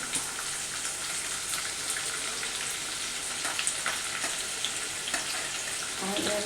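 Onions frying with ginger and garlic for a spicy chicken soup give a dense, continuous sizzle and crackle close up, with occasional stirring sounds throughout.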